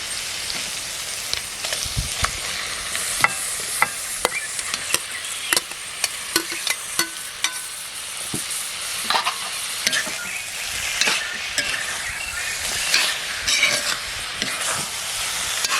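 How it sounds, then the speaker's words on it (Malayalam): Chicken sizzles and fries in a masala for a Kerala-style curry, with a continuous hissing sizzle broken by frequent sharp scrapes and clatters as it is stirred in the pan. "ഇനി ഇതിനകത്തോട്ട് കഴുകി വൃത്തിയാക്കി വെച്ചിരിക്കുന്ന ചിക്കൻ ചേർത്ത് കൊടുക്കും."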